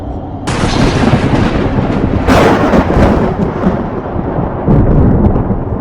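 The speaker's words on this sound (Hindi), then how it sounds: "आसमान में जोरों शोरों से बिजली कड़कने लगती है" Thunder sound effect in a Hindi fantasy audiobook, a sudden loud crack followed by a long rolling rumble with a second surge partway through, heavy and continuous, with no voices.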